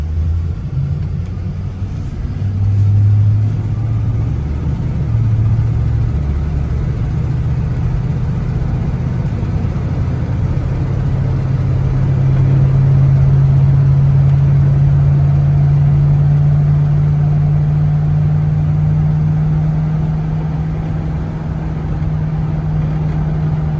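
A stock 1967 Chevrolet Camaro with a 327 V8 runs steadily with a deep low rumble, idling near the listener and rising in pitch and loudness midway through as it revs, with no talk.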